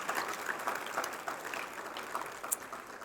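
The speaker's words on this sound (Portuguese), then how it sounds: "Vamos aplaudir ao Senhor," A church congregation at a Portuguese-language worship service applauds together, giving steady, dense clapping from many hands at moderate distance with no talk over it.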